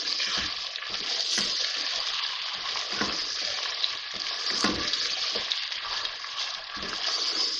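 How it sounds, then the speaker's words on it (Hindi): Meat (gosht) fries with onions in a pan for a Punjabi-style palak gosht, giving a continuous dense sizzle and crackle with occasional stirring clatter, fairly close and steady throughout. "अब इसमें ये गोश्त शामिल करें। थोड़ा सा इसको इसके साथ प्याज के साथ भूनेंगे"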